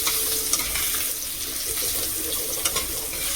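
Thin potato slices fry in hot oil, giving a steady close hiss and crackle with a couple of small pops, and no one talking.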